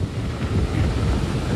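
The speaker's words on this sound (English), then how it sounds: "This is one of those strong wind gusts that we've been getting coming through." Strong storm wind gusting across a beach during street flooding, a steady loud roar of buffeting microphone rumble with surf-like wash throughout, no voices.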